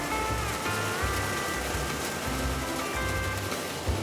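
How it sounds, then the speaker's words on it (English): Steady, heavy rain pours down continuously, a dense wash of drops with a low rumble underneath, close and constant throughout. "Steady, heavy rain this time."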